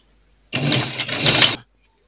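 A sewing machine stitches a pleat on a gown for about one second, a brief close buzzing run that starts and stops abruptly, with no talking.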